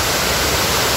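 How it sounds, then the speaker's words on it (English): Water from the 12-month fountain in Turin pours and splashes in a steady, loud, broadband rush with no pauses and no voices. "I hear the sound of the water, it really calms me down."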